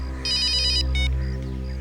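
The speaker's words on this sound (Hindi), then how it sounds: "अभिजीत का फोन है।" An electronic phone ringtone trills in two short bursts over a low steady hum, with no voices.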